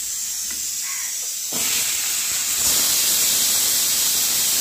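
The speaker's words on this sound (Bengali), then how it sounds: "তেলে জিরে, তেজপাতা, শুকনো লঙ্কা ফোড়ন দিয়েছি আর এখানে এই সবজিগুলো দিচ্ছি" Vegetables, including carrot, onion, peas, beans and spring onion, are added to hot oil tempered with cumin, bay leaf and dried chilli, and the frying hiss swells sharply and then keeps on, loud and steady.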